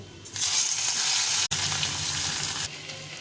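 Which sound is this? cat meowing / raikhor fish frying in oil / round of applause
raikhor fish frying in oil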